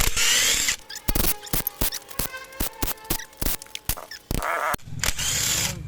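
An impact driver at work during a restoration job: loud, close whirring bursts at the start and end, with a rapid, uneven run of sharp hammering clacks in between, and no voices.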